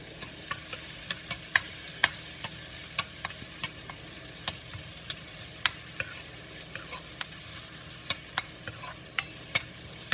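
Onions frying in a pan for pasta, a steady close sizzle under frequent sharp stirring clicks and scrapes of a utensil against the pan, with no talking.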